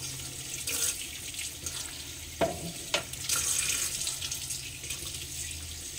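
A kitchen tap runs water into a sink, a soft steady splashing with a couple of sharper clunks and splashes partway through, fairly quiet and with no talking.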